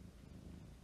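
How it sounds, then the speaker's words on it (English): A cat purring faintly and close, a soft low rumbling pulse running steadily through the brief moment without any voices. "if you can also hear my cat purring"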